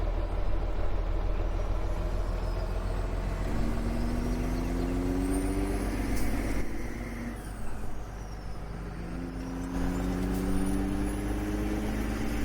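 A heavy truck engine in Farming Simulator 17 drones steadily, with rising gear-shift tones and a couple of hissing bursts like air brakes, synthetic and even in quality.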